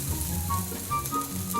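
Rolled Korean egg omelette (gyeran-mari) sizzles steadily in a frying pan, a close, continuous crackle with small pops and faint scraping, no voices.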